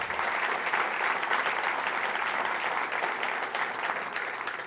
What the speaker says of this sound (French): on peut lui donner une bonne main d'applaudissement